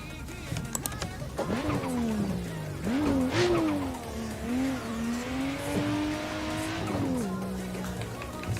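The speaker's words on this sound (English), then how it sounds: "I think now you can just hear the car normally" A car drifting in the Assetto Corsa racing game, its engine droning and rising in pitch through repeated revs while tires squeal, with faint background music underneath and no talk.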